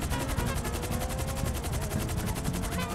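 Rapid automatic gunfire in GTA Online at an airport, a steady stream of close, evenly spaced shots running continuously for a few seconds over a rumbling game background, with no talking.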